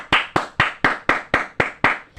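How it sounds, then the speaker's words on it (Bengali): Hands clap eight times in an even, brisk rhythm, each sharp, close slap ringing clearly in near silence. "তুই তো হাততালি ডিজার্ভ করস।"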